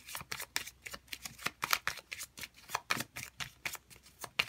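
Tarot cards being shuffled by hand, a rapid run of crisp riffling bursts and flicks that repeat about every half second, close and fairly loud, with no talking.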